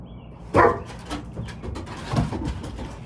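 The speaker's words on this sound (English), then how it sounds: "These dogs are showing out." Dogs at home give a few short barks, one sharp bark up close followed by softer, scattered yips against household background noise.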